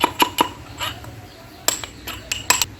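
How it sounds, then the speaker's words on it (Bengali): Roasted whole spices are pounded into powder in a home kitchen, a series of sharp metallic knocks landing in uneven bursts, some close together and others spaced apart, with brief pauses between strikes. "হালকা মারলেই গুঁড়ো হয়ে যাবে, যেহেতু এগুলো ভাজা হয়ে গেছে"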